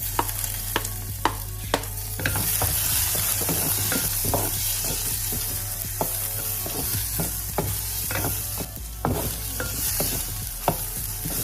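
Chopped onions fry with cumin seeds in hot oil in a pan, a loud continuous sizzle with repeated clicks and scrapes of stirring throughout, no voices.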